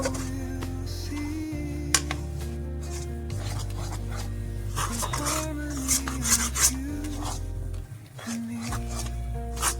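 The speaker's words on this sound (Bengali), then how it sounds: "সুন্দর করে এবার নেড়ে নেব" Chana dal halwa with ghee and dry fruits stirred in a pan, with repeated rasping scrapes of a spatula against the pan bottom in a steady rhythm, close, over a low tonal hum.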